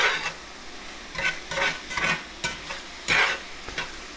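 Chunks of ground beef and onion fry in a skillet, giving a sizzling hiss punctuated by several loud scraping stirs in an irregular rhythm, close up and without speech.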